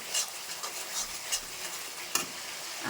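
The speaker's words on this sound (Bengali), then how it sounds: "মশলাটা ভালো করে কষিয়ে নেবো যতক্ষণ না তেল ছাড়ছে" Spiced mutton masala, already rubbed with turmeric, salt and oil, is stirred and fried in oil. A spoon scrapes through it in steady, repeated strokes over a constant close sizzle, with no talking.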